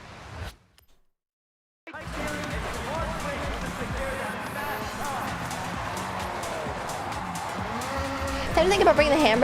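A car skids out under the handbrake in Forza Horizon 6, with a steady roar of engine and tire scrub that starts after a brief silence and swells louder near the end.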